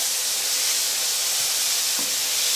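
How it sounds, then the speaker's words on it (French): Garlic and onion sizzle loudly in a hot pan with a steady, dense hiss that stays close and constant, with faint stirring scrapes and no talk over it. "je donne encore un petit coup pour que mon ail et mon oignon se colorent légèrement"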